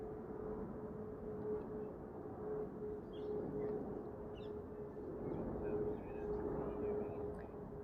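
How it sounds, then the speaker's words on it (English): A steady low rumble of planes passing overhead in the distance at Brompton Cemetery, London, continuous throughout, with faint bird chirps above it. "we can hear a few birds as well as a few planes"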